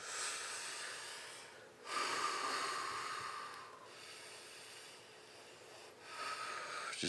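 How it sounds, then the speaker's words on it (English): Slow, deep breaths in and out, each long airy inhale or exhale swelling and fading over a couple of seconds, close and fairly quiet with no talking. "keep breathing in and out. All the way in, all the way out."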